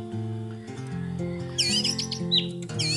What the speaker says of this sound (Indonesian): anis merah adalah salah satu burung yang misteri